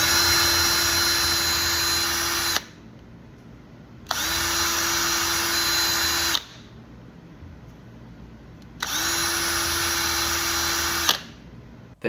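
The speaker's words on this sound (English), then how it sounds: "The drill is creating friction in the tube, and that's creating heat." Power drill grinding a plant sample inside a plastic tube for DNA extraction, three loud steady bursts of whirring drilling separated by short quiet pauses, close up with no talking.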